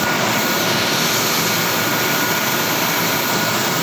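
A Pelton turbine runs in a lab under load, giving a loud, continuous, dense roar of rushing water and spinning machinery that holds steady throughout.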